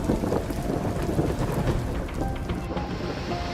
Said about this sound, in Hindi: केरल के कई जिलों में हो रही जोरदार बारिश